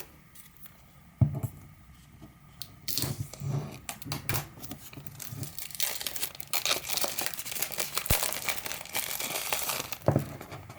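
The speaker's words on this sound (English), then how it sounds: "so let's go ahead and pull this tab" Cardboard tear tab stripped from an Apple AirPods Pro box with MagSafe charging case, a sharp crinkling rip starting near three seconds and continuing as scratchy paper tearing and rustling close up, with a few louder snaps.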